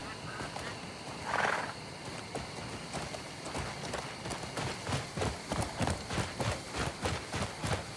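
Horse in Crimson Desert running with rhythmic clip-clop hoofbeats that grow steady and pronounced, a brief whinny early on, over ambient game background.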